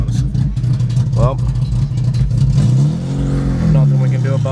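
A Volkswagen Jetta MK3 engine runs with a steady low hum, close and loud, while a person talks over it and the engine note shifts briefly.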